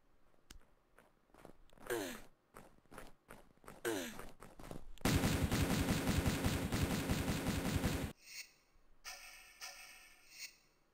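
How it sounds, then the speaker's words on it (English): Gunfire aimed at the player in the game Tomb Raider 2 in snowy Tibet, scattered sharp shots and clicks followed by a sustained three-second burst of rapid automatic fire, then a few quieter sporadic sounds. "I don't know who's shooting me."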